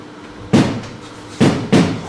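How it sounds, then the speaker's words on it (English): Stage knocking on a door during a theatre performance of Macbeth, three loud hollow thumps: one, a pause, then two close together, alone against a quiet room. "Whence is that knocking?"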